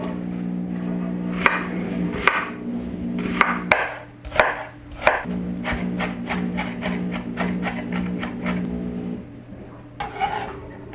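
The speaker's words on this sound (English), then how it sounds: "I'll go ahead and chop up my onions and my garlic" Chopping onions and garlic with a knife on a board: rapid, evenly spaced blade strikes in bursts, loud and close, with short pauses between runs and no talking.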